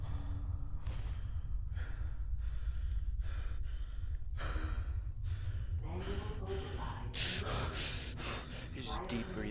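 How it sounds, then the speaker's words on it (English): Deep, heavy in-and-out breathing from a character in Fallout 4, a steady run of loud gasps and sighs that grows more strained toward the end, close and alone with no talk. "He's just deep breathing."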